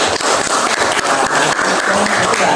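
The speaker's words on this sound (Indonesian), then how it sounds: "Tepuk tangan untuk semua." Students in a classroom give a loud, dense burst of clapping that fills the whole stretch, a close and lively patter with no talk over it.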